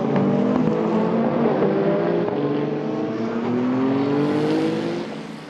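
Porsche and Ferrari race cars battle up the Kemmel Straight at Spa, engines screaming loud and close, with rising pitch sweeps as they accelerate past, fading slightly at the end.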